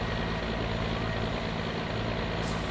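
Steady, droning truck engine in the game My Summer Car, a continuous low rumble at an even level with no breaks, running alone throughout.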